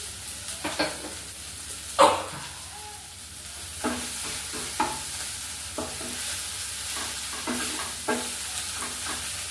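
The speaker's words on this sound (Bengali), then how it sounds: "আলুটা ভালো করে চিকেনের সাথে মিশিয়ে নেবো" A spoon scrapes and stirs potato with chicken in a sizzling frying pan, with a steady hiss of oil and a few sharper knocks against the pan.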